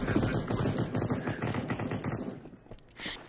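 A decoy grenade in CS:GO fires a rapid, rhythmic string of fake gunshots that fades after about two seconds, followed by a few faint clicks and a sharp final snap.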